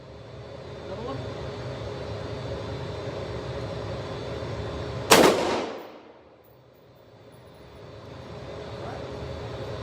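A single loud gunshot rings out at an outdoor shooting range, a sharp broadband crack followed by a short decaying echo, over steady background hum and low murmuring talk.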